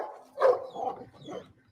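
Dogs in a John Wick 3 fight scene give a few sharp, close barks in a short burst, clear and loud with brief gaps between them.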